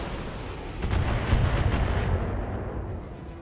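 Mech weapons firing in the BattleTech video game, a heavy rumbling barrage that swells into a dense roar and then fades, with no voices.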